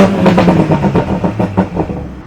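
A modified MKV Toyota Supra with a single turbo making over 700 horsepower revs its exhaust in a parking garage, a loud, raspy, close engine roar with repeated pulsing blips and clatter over about two seconds.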